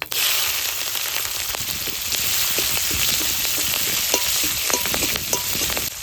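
Dried red chillies, nigella seeds and slit green chillies frying in hot oil for a water lily stem curry, a loud, steady, close sizzle with scattered sharp crackles and pops throughout.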